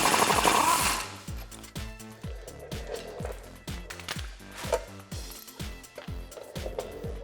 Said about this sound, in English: if you're using an impact gun, it's helpful to have a swivel